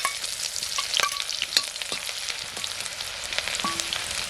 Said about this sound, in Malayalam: കടുക് പൊട്ടിക്കഴിഞ്ഞതിലിട്ട് നമുക്ക് ഉള്ളി ഇട്ട് കൊടുക്കാം.